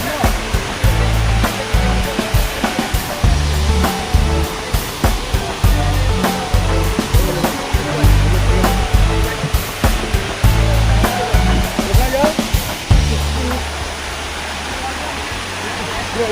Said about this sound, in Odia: ଏବେ ଦେଖନ୍ତୁ ଆପଣଙ୍କୁ କେମିତି ଝରଣା ଦେଖାଯାଉଛି